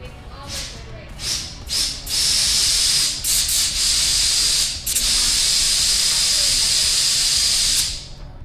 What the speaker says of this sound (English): I'm gonna take the compressor in there, and it's gonna be disgusting